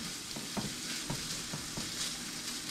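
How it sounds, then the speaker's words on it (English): Bacon frying in a pan, a soft, steady sizzle with faint crackling and occasional light pops and scraping from stirring, quiet and close with no talk. "you can obviously hear the bacon now doing its thing."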